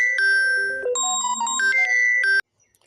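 A phone ringtone plays a bright electronic melody of stepped chiming tones, close and clear with no voices, then cuts off abruptly.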